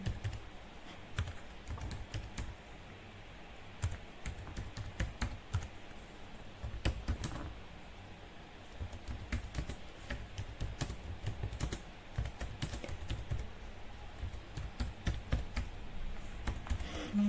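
Steady typing on a computer keyboard while entering text into a file on a Linux system, with a run of quick, uneven key clicks close to the mic and no voices.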